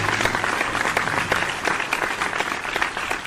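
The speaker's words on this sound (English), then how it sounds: "we will continue the round of applause as they exit the stage." A theater audience at a vocal competition show applauds steadily as performers leave the stage, a dense and even wash of clapping from a large crowd.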